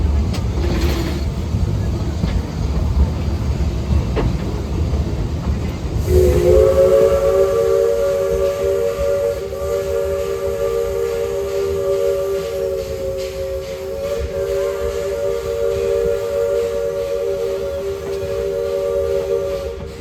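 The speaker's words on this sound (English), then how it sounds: "Here comes that whistle." The Shay locomotive Dixiana on the Roaring Camp Railroad in a redwood forest sounds a long, loud, steady steam whistle. Hissing steam and rumbling come first, and the whistle holds for many seconds with a slight dip partway through.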